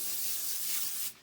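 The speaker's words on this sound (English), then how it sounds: "I'm going to spray it a little bit because I want it to help crisp them up" Cooking oil sprayed onto a cookie sheet in one short continuous hiss that cuts off sharply at the end.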